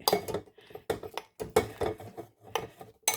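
A spoon clinks and scrapes against a dish while turning grilled raw banana in coconut milk, several short irregular bursts close by with brief pauses between.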